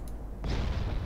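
Naval gunfire strikes a ship in the warship game Ultimate Admiral: a sudden loud impact crack about midway, followed by a sustained low rumbling roar and crackle over continuous background battle noise.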